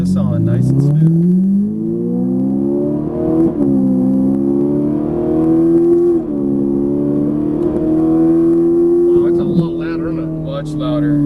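A Ferrari 458 Italia accelerating on a racetrack gives a loud, close, climbing engine note that rises and levels off through gear changes, with a driving instructor speaking over it at the start and end.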